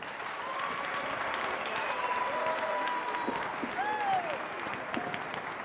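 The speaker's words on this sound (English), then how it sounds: "Let's give them a round of applause" A school audience applauds 4th grade instrumentalists after their first performance, a steady wash of clapping lasting several seconds at moderate distance, with some faint voices and whoops in the crowd.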